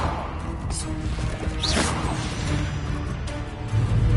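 Bombarda and Confringo blast spells cast in Hogwarts Legacy combat, bursting crashes and thwacks with a whooshing streak over a steady rumbling game backdrop, fairly loud and close, no talk.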